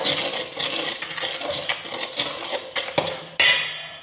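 A spoon stirs flour and sesame seeds together in a bowl, giving close scraping with scattered light clinks against the bowl and one sharper clink near the end. No voices are heard.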